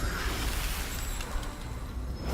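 Hail Strike spell in the role-playing video game Divinity: Original Sin 2: a dense, noisy rush of pelting ice with scattered sharp impacts, steady and fairly loud for about two seconds.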